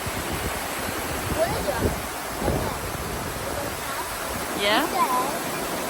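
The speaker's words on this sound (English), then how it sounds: "There's a waterfall." Water tumbles steadily over a small waterfall in the grounds of Sheffield Park, a constant broadband rush close by, with a child and an adult talking briefly over it.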